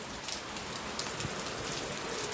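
Steady heavy rain patters densely on a surface, a continuous hiss with scattered louder drops and no voices.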